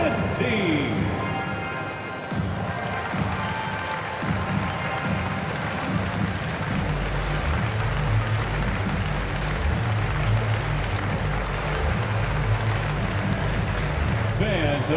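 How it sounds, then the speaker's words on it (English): An arena crowd at an NBA Finals game claps and cheers for the dance team, a dense continuous roar of applause with an announcer's voice and music over it. "Fans, a big round of applause for your dance team."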